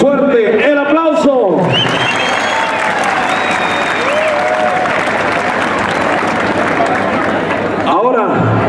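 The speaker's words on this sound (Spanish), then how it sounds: "Si quiere que se lleve el primer lugar, suerte, el aplauso." Steady applause from a crowd at a bull contest in La Griega, Querétaro, broad and continuous for most of the stretch, with an announcer talking over it at the start and end.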